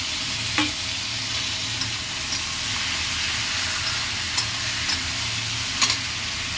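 Spices fry in a pan with chopped tomato added, making a steady, close sizzling hiss with a few light stirring scrapes and taps, and no talk.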